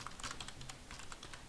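Quick, light tapping on a computer keyboard while typing a private chat message, keystrokes clicking in uneven bursts, close and fairly quiet with no voices.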